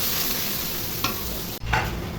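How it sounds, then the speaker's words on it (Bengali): Onion paste frying in hot oil that was used for crisp-fried onions, for a silver carp curry, sizzles loudly and continuously with a brief stir partway through. "বেরেস্তা করা তেলের মধ্যে পেঁয়াজ বাটা দিয়ে দিব, দিয়ে কিছুক্ষণ ভেজে নিব।"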